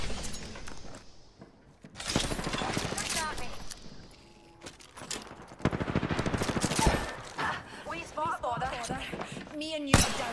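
Gunfire in Apex Legends, a battle royale game, comes in bursts of sharp shots and rapid volleys, loud and close, with game voice lines speaking over the firing.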